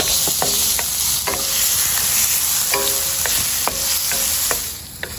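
Crushed ginger and garlic dropped into a hot pan for Chettinad chicken, cooked outdoors in a backyard kitchen, give a steady close sizzle with repeated sharp scraping stir strokes throughout.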